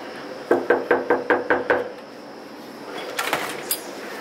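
Someone raps on a house door, six quick knocks in an even burst, then a pause and a few softer taps and rattles close by, with no talk over it.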